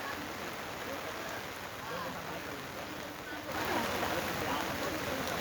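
Heavy rain pours down in Lonavala as a steady, dense broadband hiss that swells louder partway through, with no voices.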